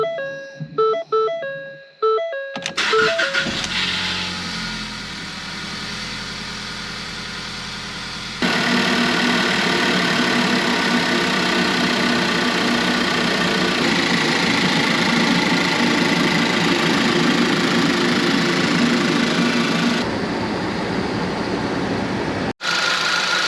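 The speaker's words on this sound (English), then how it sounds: "I'm gonna go ahead and start it and let it idle" A 2017 Ford Focus with a swapped 2.0L engine cranks and catches, then settles into a steady, fairly loud idle that holds for about twenty seconds before cutting off abruptly.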